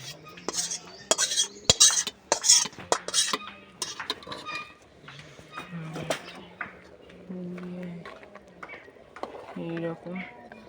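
A spoon scrapes and clinks against a pan while stirring fried food for khichuri, rapid metallic strikes at first, then slower scraping, with someone talking in between.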